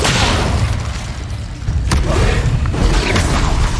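Incendio fire spell cast in Hogwarts Legacy, a loud rumbling burst of fiery roar with a sharp crack near the middle, dense and heavy throughout.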